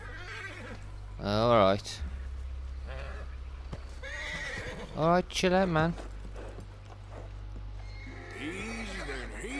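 A horse in Red Dead Redemption 2 whinnies loudly twice, with a nearer second burst, between snorts and faint hoof clops, while someone talks calmly over it and a low steady rumble runs underneath.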